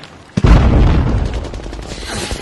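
A single heavy explosion erupts in a war movie battle scene between German forces and US 101st Airborne troops, a sudden loud boom followed by a long rumbling decay.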